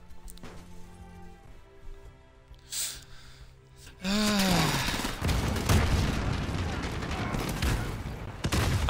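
Shots from an SPR-208 sniper rifle in a first-person shooter game, with loud, dense gunfire noise filling the second half after a quieter stretch where a voice talks.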